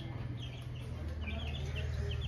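Young chicks in their new coop peep in soft, high chirps scattered over a steady low hum, faint and somewhat distant.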